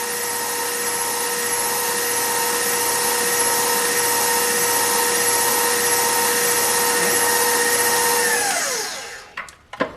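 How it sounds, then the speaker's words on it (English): A stand mixer runs steadily on buttermilk pound cake batter, a loud even motor whine with a constant hum, then it winds down and stops near the end, followed by a few small clunks. "Now I'm just going to let my batter mix for just about 30 seconds to make sure everything is folded in well and lumps are removed."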